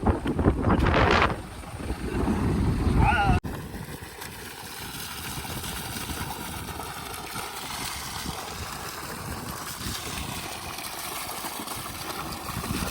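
A steady mechanical hum of a borewell motor pump on a 910-foot bore drones on without pause, with a louder rumbling burst at the start before it settles into an even drone.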